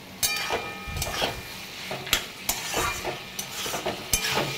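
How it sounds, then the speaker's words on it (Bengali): Fried spiced lentil dumplings (bori) are stirred into a pan with cooked potato and bottle gourd. A utensil scrapes and knocks repeatedly against the pan in uneven strokes over a light sizzle, close and fairly loud. "এবারে ভেজে রাখা বড়িগুলো দিয়ে দেবো।"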